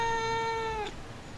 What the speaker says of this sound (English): I know it's a cat meowing